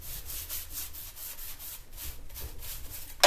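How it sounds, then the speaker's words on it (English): Hand sanding along the edges of a decoupage piece makes repeated soft rhythmic scratching strokes, close and quiet, with no speech. "And then sand those edges at the bottom."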